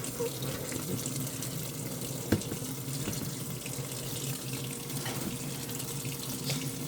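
Tap water runs steadily into a kitchen sink for rinsing, a continuous even splashing flow with one brief knock partway through.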